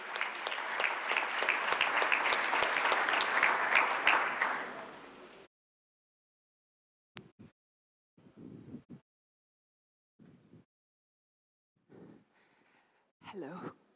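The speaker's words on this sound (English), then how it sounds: "Round of applause, please," A summit audience breaks into a loud round of applause, dense clapping lasting about five seconds before cutting off, followed by quiet gaps and short bursts of someone speaking.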